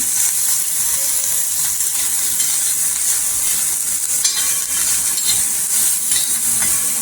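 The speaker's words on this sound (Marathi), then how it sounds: "फक्त दोन मिनिटासाठी तेलावर परतून घ्यायचं आहे" Dried bombil fish frying in oil in a pan gives a loud, steady sizzle and hiss throughout, with occasional stirring and crackling and no voices.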